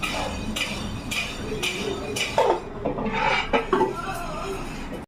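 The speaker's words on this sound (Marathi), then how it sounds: "अशा प्रकारे मिक्सरचं भांडं धुवायचं" Mixer grinder jar being washed, with rinsing water and light clinks and knocks of the jar, close and continuous at moderate volume.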